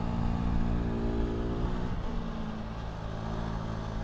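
An FB Mondial Pagani 125 motorcycle engine heard while riding, a steady mid-pitched drone with a slight drop in revs midway and wind rush throughout, loud and close with no speech.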